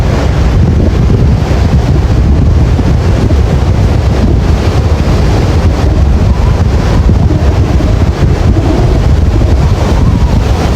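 Strong wind at a beach buffets the microphone with constant loud rumbling, with rough-sea waves and surf churning underneath throughout.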